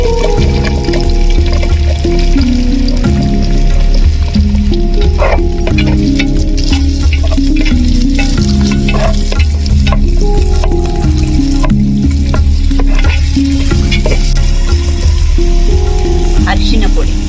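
Onions for dry black pepper chicken fry loudly in a pan, with constant close crackling and hissing and occasional stirring clicks over a steady rhythmic musical bed.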